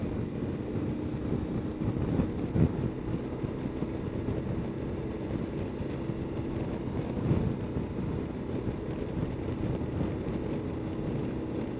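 Wind buffeting a helmet microphone while riding a KTM 1290 Adventure S motorcycle, a steady low rumbling roar throughout with occasional stronger gusts, close and continuous.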